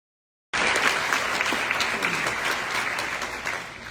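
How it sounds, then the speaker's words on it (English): Applause from a community forum audience bursts in after a brief silence and continues as dense, steady clapping that slowly softens. "Thanks for your applause."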